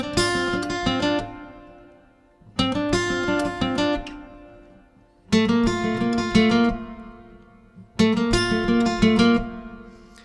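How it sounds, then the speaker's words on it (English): Electric guitar part of the worship song House of the Lord, played as four strummed phrases of roughly two and a half seconds each, every one struck sharply and left to ring and decay before the next, loud and close with no voices. "Now let's take a look at the electric guitar part that sounds like this."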